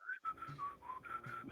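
A person whistles a short, wavering tune of several sustained notes, quiet and close, with brief gaps between phrases.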